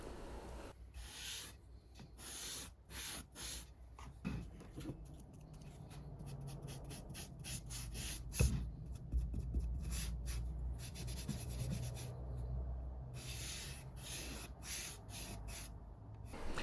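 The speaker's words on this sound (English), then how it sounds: "I then moved on to staining the bases" A wood offcut is stained by hand, a cloth or brush rubbing across the grain in repeated soft strokes, close and quiet, with faint scratchy swishes in an irregular rhythm.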